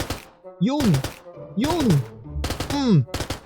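Repeated shots from an upgraded scoped gun in Minecraft fired at a practice range, three separate bursts, each a sharp crack followed by a rising-falling tonal whine, loud and close with no talk.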